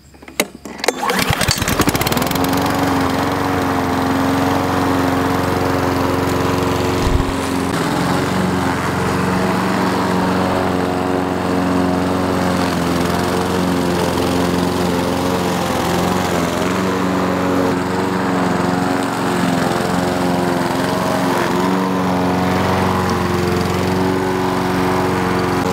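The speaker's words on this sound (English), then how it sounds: "humid air on top of the slow grind of slowly mowing this grass" A lawn mower grinds slowly through grass in a hot, humid garden, a steady droning engine with a strong low hum that stays loud and close for the whole stretch after a brief start-up clatter.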